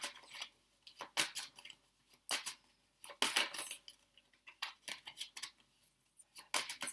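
Tarot cards being shuffled in quick bursts, a run of crisp riffling and slapping flutters with short pauses between them, close and fairly quiet, with no voice.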